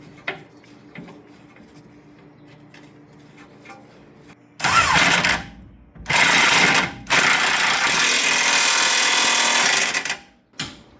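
A power tool tightens the bottom bolt of a rear shock on a 2016 Volkswagen Jetta. After quiet shop sounds come three loud, close, buzzing bursts, the last one running several seconds, with no talking.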